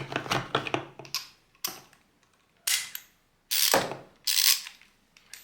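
Series of sharp ratcheting clicks from a WALTER torque wrench mechanism, arriving in separate bursts with short pauses between them, close and fairly loud with no talk.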